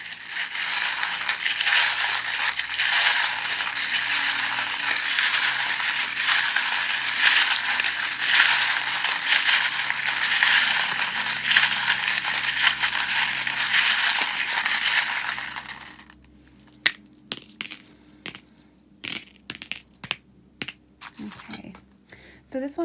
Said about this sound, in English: you might just want to turn it down while I shuffle them, because not everyone likes the sound